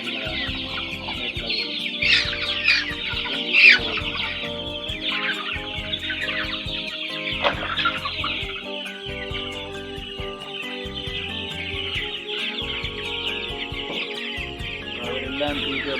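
Hens on a farm cluck and chatter continuously nearby, with a couple of louder squawks early on, over a low steady background drone.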